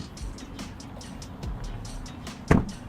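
A single solid thud rings out as a panel shuts firmly on a GWM Tank diesel SUV, heard near the end over a low, steady background hum.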